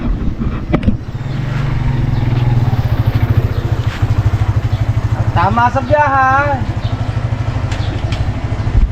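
Someone's motorcycle idling nearby with a loud, steady rhythmic engine chug throughout, while people talk over it.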